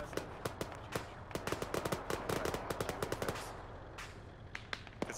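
Rapid gunfire in a military shooter game, sharp cracks in quick irregular bursts, clustered densely and then tapering into a few scattered shots, fairly close and loud.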